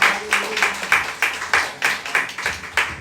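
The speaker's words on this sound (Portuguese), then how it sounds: "Você pode aplaudir ao Senhor com seu melhor nessa hora?" A church congregation claps along in a brisk, regular rhythm, with bursts of many hands landing together on each beat, fairly close and with no voices over it.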